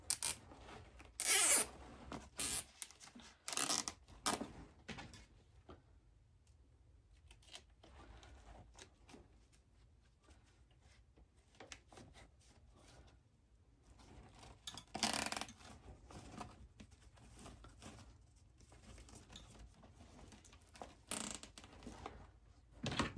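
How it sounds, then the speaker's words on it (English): A long zip tie ratchets and clicks as a pine cone is fastened with floral wire onto a 24-inch pine wreath, a close series of sharp rasping bursts and rustles separated by quieter handling. "to secure it with a zip tie and a floral wire."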